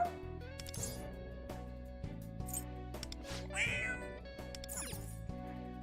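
A cat meows in the video game Persona 5 X, a clear, fairly close call rising above steady game background music with soft chiming notes.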